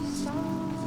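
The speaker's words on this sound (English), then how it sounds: "It's just this fucking rain, man." Rain patters steadily during a hike in the Adirondack High Peaks wilderness, a brief, close, continuous wash of drops hitting nearby surfaces.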